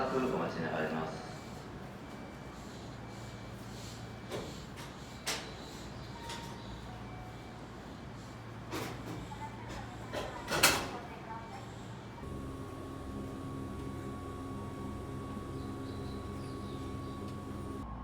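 Doors of a limited express train in Japan sliding shut at the station, with knocks and a sharp clunk amid platform announcements and chatter, followed by a steady hum as the train waits.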